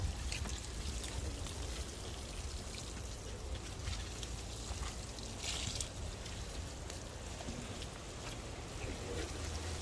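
Water pours steadily onto garden soil to soak it for sprouting seeds, a continuous soft splashing hiss that holds at an even level throughout without pauses.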